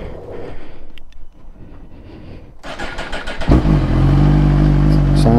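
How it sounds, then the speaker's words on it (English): A cold Suzuki GSX-R1000R sport bike fitted with a Yoshimura R11 exhaust, heard first ticking quietly before the engine bursts into a loud, close, rising rev and then holds a deep, steady roar. "Not going to rev the arse off because the bike's cold at the moment."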